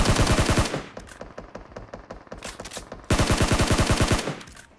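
Rapid automatic gunfire from a shooting video game rattles in long, loud bursts, pausing briefly before another sustained volley, with no talk over it.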